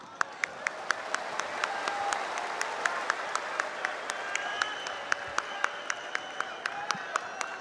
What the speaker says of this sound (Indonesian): Kita berikan tepuk tangan yang lebih meriah lagi untuk Mas Ganjar Pranowo.